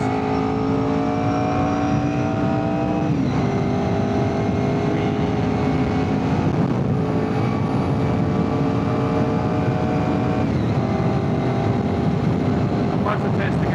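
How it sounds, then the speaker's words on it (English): A Honda VFR800 motorcycle at speed, with constant loud engine whine and wind rush throughout and a couple of gear changes where the tone briefly drops and climbs again. "I'm going to see if I can cut out some of the noise from driving."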